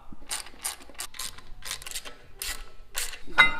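A hand ratchet tightening bracket bolts onto the transmission of a 3000GT VR4 with a twin-turbo 6G72 engine, close rapid clicking bursts repeated in short strokes with brief pauses between them.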